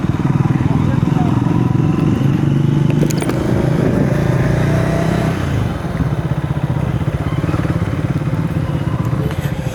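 Motorcycles and cars driven recklessly on a road produce loud, steady engine noise close by, with clattering and a brief revving swell partway through.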